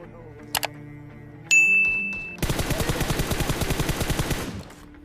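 AKM fire in PUBG Mobile, a rapid automatic burst of evenly spaced loud shots lasting a couple of seconds, preceded by a few isolated pops and a metallic ding.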